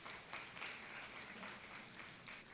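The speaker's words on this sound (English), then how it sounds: "Round of applause." A summit audience gives a round of applause, a fairly quiet but steady, dense patter of many hands clapping together, continuous for a few seconds with no voices over it.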